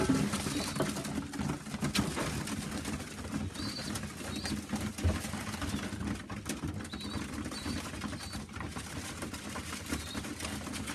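Young pigeons in a loft give soft cooing calls and faint chirps against a steady, dense background hiss, with occasional wing rustles.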